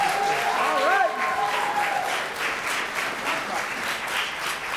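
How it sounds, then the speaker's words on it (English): Sustained audience applause at an outdoor Black American Heritage flag raising ceremony in Springfield, steady clapping from a crowd that continues throughout, with a brief vocal cheer or whoop rising over it near the start. "So let's give her another round of applause."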